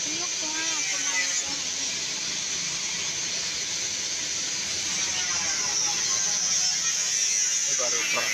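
Chicken frying in hot oil gives a steady, loud hiss and sizzle that runs unbroken throughout, with a voice speaking faintly underneath.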